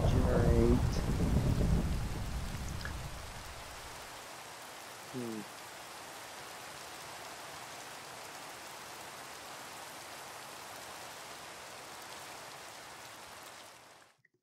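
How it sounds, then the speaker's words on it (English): Steady rain falls in the blocky game world of Minecraft, a broad even hiss that runs almost the whole clip, with a voice speaking over it at the start and a brief chirp partway through. "It rains so much in this."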